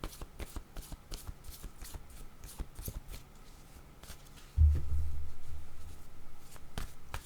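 Oracle cards being shuffled and laid out, a rapid run of close, crisp riffling flicks, then a brief low thump and softer rustling of cards being handled.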